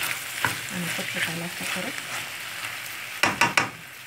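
Falafel and chicken frying in a covered pan, a steady soft sizzle running throughout beneath a woman's speech, with a few sharper pops and lid or utensil clatters near the end.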